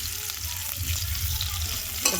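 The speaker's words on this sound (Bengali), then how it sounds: "ভালো করে ভাজবো আলুটাকে" Potatoes fry in a pan with cumin and bay leaf, giving a continuous close sizzle with soft stirring scrapes and a brief clatter at the end.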